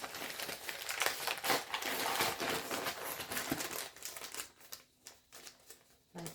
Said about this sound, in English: time to open the packages